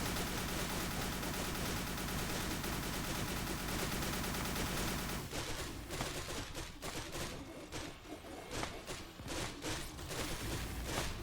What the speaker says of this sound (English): Machine gun noises.